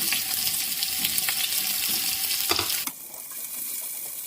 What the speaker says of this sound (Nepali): हामीले अब फ्राई गर्नुपर्छ प्याजलाई एकैछिन।